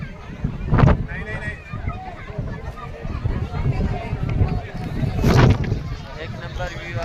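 Outdoor wind buffets the microphone in a steady rumbling roar with two stronger gusts, on a pilgrimage route near a helipad at Katra toward Vaishno Devi.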